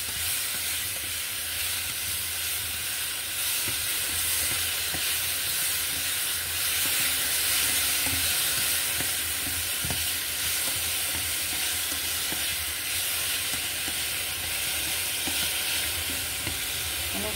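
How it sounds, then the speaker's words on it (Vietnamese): Chunks of fish stir-fried together with pineapple in hot oil give off a loud, steady sizzle and hiss throughout, with faint scraping from stirring and no voices. "Thơm mình cũng đã xào dầu dạo rồi, mình bỏ cá vô mình xào chung nè."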